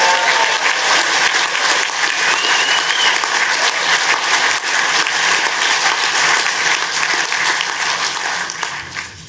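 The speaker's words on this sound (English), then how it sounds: "With all that clapping, I'm out of time." Steady, loud clapping from a crowd at a Brexit Party rally in Edinburgh, Scotland, continuous for about nine seconds and tapering slightly near the end.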